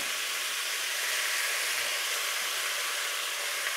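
Minced garlic sizzling in a hot pan alongside meat for a crockpot lasagna, a steady bright hiss with no breaks, fairly quiet and alone.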